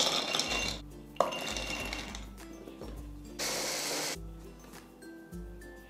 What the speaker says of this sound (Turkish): Rondoda güzelce çekeceğim şimdi bunları.